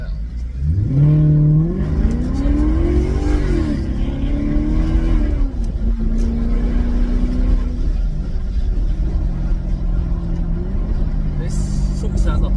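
A Maserati GranTurismo S engine drones loud and steady as the car drives, its pitch rising and falling through the gears, with a person talking over it throughout.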